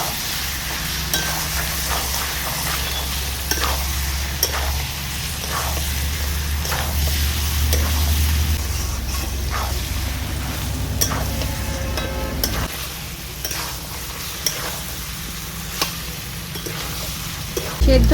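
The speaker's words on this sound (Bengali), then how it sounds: "দিয়ে দিচ্ছি লবণ, হলুদ, ভালো করে মিশিয়ে এবার নাড়তে থাকবো আমি।" Boiled olives, salt and turmeric are stirred in a pan while they dry out, with a close, continuous sizzle and repeated scraping strokes of the spoon running throughout.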